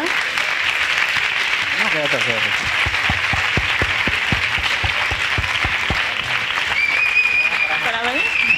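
An audience at a social theatre session applauds, a steady mass of clapping running throughout while voices talk over it and a few louder nearby claps punctuate the middle.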